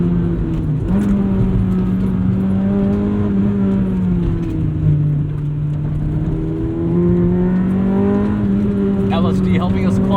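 1997 Honda Civic Type R EK9 engine revving hard under acceleration, a loud rising and falling whine with clear harmonics, heard from inside the car along with some rattles.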